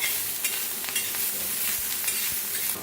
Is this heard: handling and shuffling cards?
no